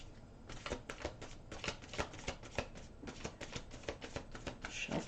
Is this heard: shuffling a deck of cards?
yes